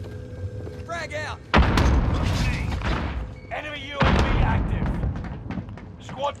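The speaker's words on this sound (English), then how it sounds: "Tossing a frag!" Frag grenade explosions in the Call of Duty Warzone video game, two loud, deep booms a few seconds apart, heavy and close, with game voice chatter around them.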